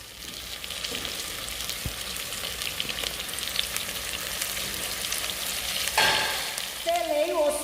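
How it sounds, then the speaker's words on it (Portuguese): Ossobuco sears in a hot pan for risotto, giving a steady close sizzle and crackle of frying with occasional stirring scrapes, a louder burst near the end and a brief voice at the close. "Eu vou selar esse ossobuco de um lado e do outro também."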